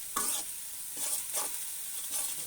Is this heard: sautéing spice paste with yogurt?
yes